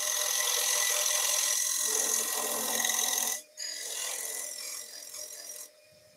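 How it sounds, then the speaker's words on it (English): A parting tool cutting into spinning wood on a lathe running at about 1400 rpm gives a steady, loud rasping scrape that drops out briefly, resumes, then stops abruptly. "I'll just cut that with the parting tool."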